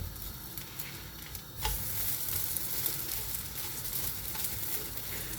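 Paratha frying in a dry pan without oil, giving a steady close sizzle with light stirring scrapes that grows louder partway through and continues without pause.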